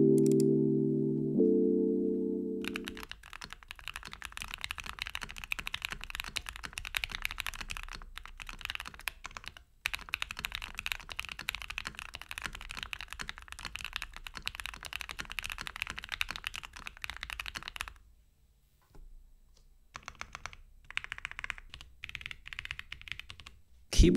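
Rapid, continuous clacking of a modded Keychron Q1 V2 mechanical keyboard being typed on at close range, with a short musical intro at the start and brief pauses.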